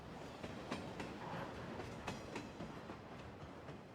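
A train rolls past in a furry visual novel game, a steady rumbling roar with repeated clicking of the wheels over rail joints, moderately faint and with no voices.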